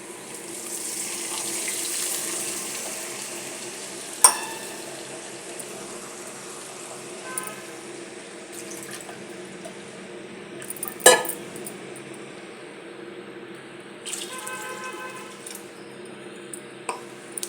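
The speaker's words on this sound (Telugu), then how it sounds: "ఇందులో పోపు వేగిపోయింది, నీళ్ళు పోసేస్తానండి గ్లాస్తో." Water poured from a glass into fried tempering for uppudu pindi upma runs as a continuous splashing stream, with a few sharp clinks of the glass against the pot scattered through and no voices.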